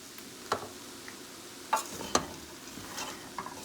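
A spoon stirs black pepper and seasoning through lamb and rice in a pot, giving a faint background sizzle and a few scattered scrapes and taps against the pan, with no talking.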